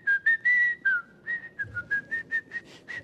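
A man whistles a short tune, imitating someone who whistles while performing ablution before prayer: a sustained opening note, then a quick run of short, evenly spaced chirps, close and clear with no other sound.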